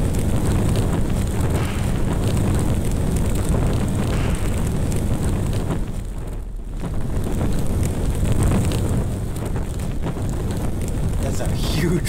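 A wrecked, overturned vehicle burns in BeamNG with a loud, steady roar of rushing, wind-like noise, and a voice talks over it.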